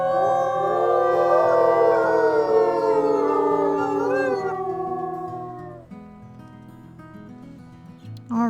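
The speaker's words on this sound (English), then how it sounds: "Yeah, the whole pack are growling at everyone." A wolf pack in the video game WolfQuest howls loudly in several overlapping, rising and falling voices, fading toward the end with low growling tones underneath.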